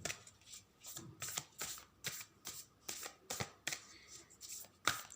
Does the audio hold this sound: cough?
no